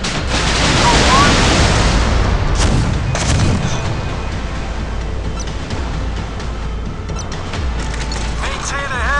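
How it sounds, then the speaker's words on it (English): Missiles launch from the USS Port Royal in the Modern Warships game, a loud roaring blast at the start that fades into a rumbling, mechanical wash, with voices speaking over it. "Missiles ready for launch, sir."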